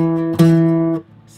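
Requinto guitar plucks a single note, a bright sustained tone with a fresh pluck partway through that rings on briefly before being damped, close and alone with no talking.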